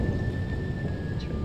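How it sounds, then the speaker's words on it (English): Stormy ambient soundscape in KOTOR 2, a dense low rumble like distant thunder and rain with a thin steady tone, continuous and moderately loud. "it's more like lightning and creepy sounds"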